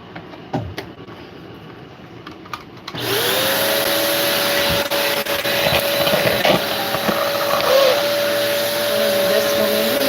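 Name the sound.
sweeping up with a vacuum hose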